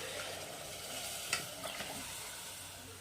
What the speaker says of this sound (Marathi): आता आपण उकडलेलं मटण यामध्ये टाकायचं आहे